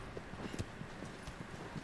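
Horse hooves clip-clop in the video game Shadow of the Colossus, a soft steady patter of hoofbeats mixed into a dense, noisy game soundtrack, moderately faint throughout.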